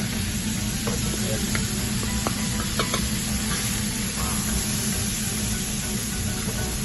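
Philly steak sizzles steadily on a restaurant grill, a constant bright hiss broken by a few sharp scraping and tapping clicks, heard alone without talk.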